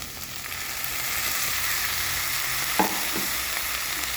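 Banana flower ghonto with prawns being stirred in a pan, a steady close sizzle with a couple of soft scraping strokes near the end, no voices.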